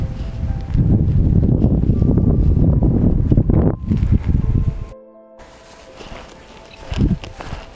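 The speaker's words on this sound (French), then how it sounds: "je suis désolé car le vent est fort aujourd'hui" Strong wind buffets a microphone outdoors near an old bunker, with heavy low rumbling gusts for several seconds, a sudden cut to near silence, then lighter gusts and rustling returning.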